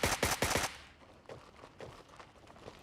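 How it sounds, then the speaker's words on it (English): AK rifle firing in the Gray Zone Warfare game: a quick burst of four or five loud, close shots, then scattered fainter single shots trailing off, with no talking. "Pretty sick sounding AK there"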